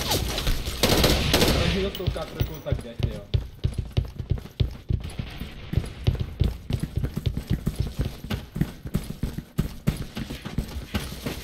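Rapid bursts of automatic gunfire from a competitive first-person shooter game ring out in dense, irregular volleys that run through most of the stretch, loud and close, with players' voices mixed underneath.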